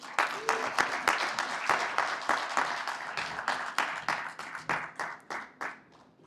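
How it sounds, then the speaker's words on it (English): Audience applause greets a speaker, Mr. Manoj Gawali, as he walks onstage at the FINYE Australia I-YES 2026 event: a room of individual claps ringing out distinctly, moderately loud, thinning and scattering toward the end. "Oh, round of applause, please."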